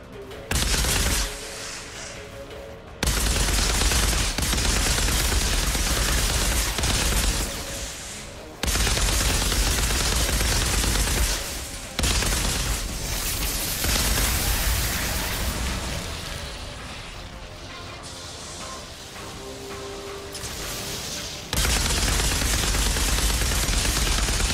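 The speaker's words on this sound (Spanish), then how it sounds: "Venga, más tiros." Heavy gunfire erupts from the video game Outriders: loud, sustained bursts of automatic shooting and blasts in long dense stretches, broken by brief lulls, with game music and effects underneath.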